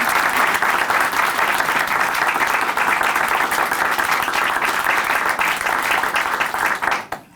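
An audience in a church talk-show studio gives sustained, dense applause at steady loudness for several seconds, then the clapping cuts off abruptly.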